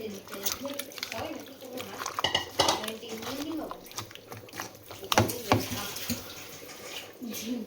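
Chili chicken is mixed with egg and soy sauce in a bowl, with a utensil clinking and scraping against the dish while a person talks over it.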